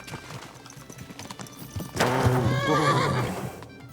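In the video game Kingdom Come: Deliverance II, hooves clop in a quick rhythm, then a horse lets out a loud, wavering neigh that fades at the end.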